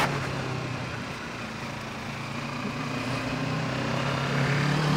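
Kawasaki Ninja 650 motorcycle (2020) accelerating in first and second gear, a steady loud engine drone with a low buzzing hum that swells slightly toward the end, no voices.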